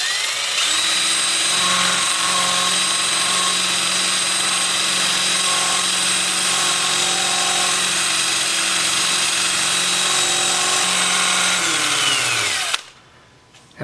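A 180 grit sanding disc works weathered mountain mahogany on a spinning lathe, a loud steady whirring grind that holds for about twelve seconds before cutting off abruptly.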